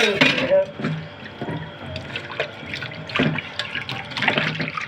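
Water sloshes and splashes in short bursts as hands soak and rub dried fish in a basin, with occasional drips, a voice speaking faintly underneath.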